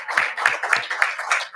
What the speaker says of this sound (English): How about an applause for all our students that were inducted?